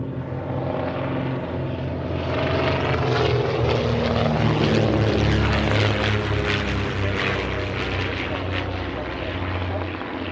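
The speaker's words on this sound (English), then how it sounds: "The Hawkspeed 6, which is the licorice and cream aircraft that's just broken to the right over the road" A Hawk Speed Six vintage aircraft flies overhead, its propeller engine a loud, continuous drone that swells toward the middle and fades slightly at the end.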